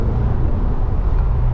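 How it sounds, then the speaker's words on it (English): Steady low rumble from inside a 2021 Chevrolet Corvette Stingray while it is driven, a continuous road and engine drone at a constant level with no distinct revs. "by the way, this is my first time driving a Corvette, guys"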